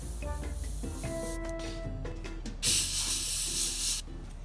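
An airbrush sprays paint in a steady hiss onto a 15mm Jagdpanther model tank, with a louder, brighter burst near the end, over a faint background hum and tones.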